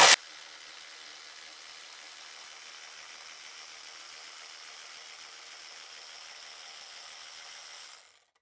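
A Makita 12-volt cordless ratchet spins freely with a steady, continuous mechanical whir for about eight seconds, close and fairly loud, then cuts off abruptly.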